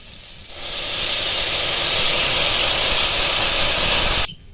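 Water poured into a hot pan for shukto sends up a loud, continuous hiss of steam lasting about four seconds before stopping abruptly.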